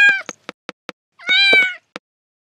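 A cat, apparently a cartoon cat, gives two loud harmonic meows, a short one at the start and a longer drawn-out one in the middle, with sharp clicks and taps in between.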